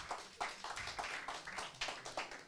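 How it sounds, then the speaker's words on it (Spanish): A scattered round of applause for a presenter at a children's awards ceremony for a drawing contest, hands clapping in uneven bursts that are fairly faint and slightly distant. "Démosle un fuerte aplauso a mi compañera Adis."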